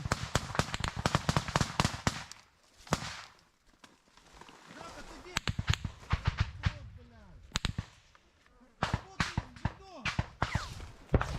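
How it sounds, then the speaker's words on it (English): Sharp gunshots crack in irregular bursts and single reports during a firefight in the Ukraine war, some near and some distant, with shouting voices in between. "We hear the firefight continuing."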